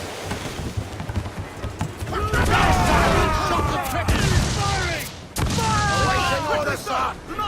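Pirate ship cannons fire in Assassin's Creed 4 Black Flag, heavy booms landing in quick irregular volleys amid sea-battle clamour, with shouted commands over the din.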